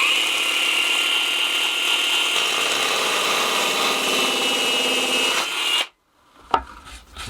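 A small handheld detail sander for fine sanding runs in a shed, giving a steady buzzing whine for several seconds before it switches off and winds down, followed by a brief knock and rustle.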